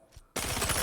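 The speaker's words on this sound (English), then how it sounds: "Our enemy's firing on us." Rapid automatic gunfire from enemies in the Star Citizen video game bursts in abruptly after a brief quiet moment, loud and sustained with a steady rattling rhythm to the end.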